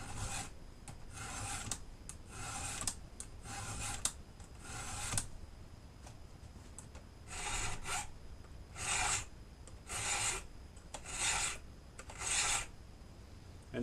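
A hand file rasps across chainsaw teeth clamped in a vise, giving repeated steady forward strokes in short bursts with brief pauses between groups, close and fairly quiet.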